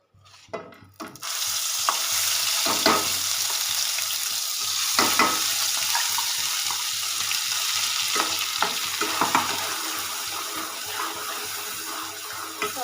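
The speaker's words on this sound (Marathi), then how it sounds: "आपलं तेलसुद्धा तापलं येतं आता आपण याच्यामध्ये घालणार आहोत हे वाटण" Ground masala paste for misal hits hot oil after a brief quiet start, then fries with a loud, steady hiss broken by irregular stirring scrapes and crackles.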